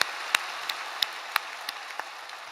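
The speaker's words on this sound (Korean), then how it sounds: "그렇게 역사하실 우리 하나님께 다시 한번 우리 감사의 박수 올려드립니다." A church congregation at a Friday evening service at Yoido Full Gospel Church claps in thanks. Sharp, evenly spaced claps ring out in a steady rhythm over a soft wash of scattered applause.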